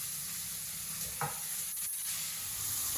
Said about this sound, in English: you want to heat it, the sizzle, otherwise it's not cooked